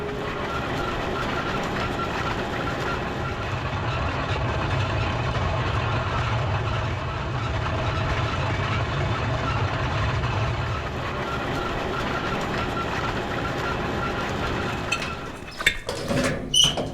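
Tractor engine running in a hay field, a steady close mechanical drone with rattling, ending in a few louder clunks and knocks.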